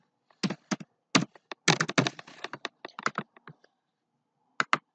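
Someone types the word "Facebook" on a computer keyboard: a quick run of sharp, close key clacks in uneven bursts, then a pause and two final taps.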